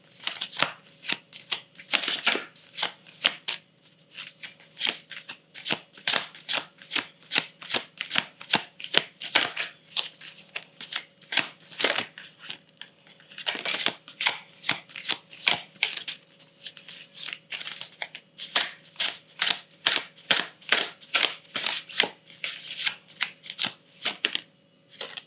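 A Moonology Messages Oracle deck is shuffled up close for 25 seconds of quick, rhythmic bursts of cards riffling and slapping together, with no talk.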